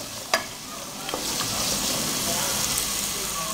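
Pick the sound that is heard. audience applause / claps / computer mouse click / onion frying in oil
onion frying in oil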